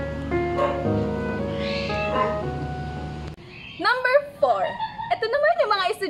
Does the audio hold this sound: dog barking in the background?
yes